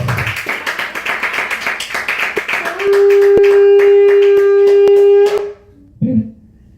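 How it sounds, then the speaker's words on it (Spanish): A church congregation claps in a quick rhythmic burst, then a sustained tone rings out under spaced sharp claps before the sound cuts off, with a brief voice afterward. "Denle un aplauso a Cristo Jesús en esta hora"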